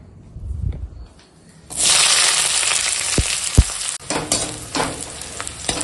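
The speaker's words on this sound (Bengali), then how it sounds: "চলো পেঁয়াজটা কাঁচা লঙ্কাটা আগে তেলের ওপর দিয়ে দেবো" Chopped onion and split green chili drop into hot oil in a pan, bursting into a loud, sustained sizzle after a quiet start, with a few sharp scraping clicks from stirring.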